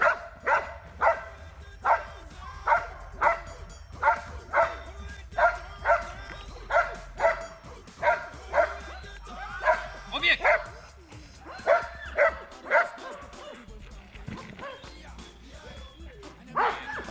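A guard dog in attack training barks over and over in a steady, rhythmic run of sharp, loud barks, with some whimpering and voices talking alongside.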